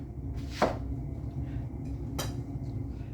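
A chef knife, a South Korean Beoseonko, slices an onion in half with two distinct crisp cuts against a board, close and moderately loud over a low steady hum.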